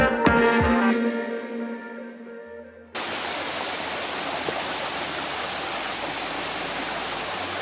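Water from a waterfall and stream in a Southern Indiana woodland, running low, gives a steady broadband rush that starts suddenly and then holds even and full, with no voices.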